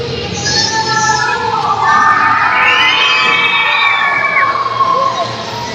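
A wrestling arena crowd at a Sons of Liberty versus K Oss and Titan match cheers loudly, with high shrill shouts and screams swelling in the middle and staying strong to the end.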